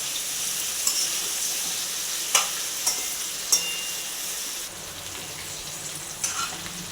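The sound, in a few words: okra (bhindi) frying and being stirred in oil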